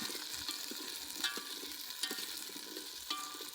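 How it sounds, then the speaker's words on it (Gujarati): Onions fry in a pan while a spoon stirs them, giving a soft sizzle broken by light scraping clinks at irregular intervals. The sound is close and quiet, with no talk. "થોડીક વાર ચલાવ દેવી"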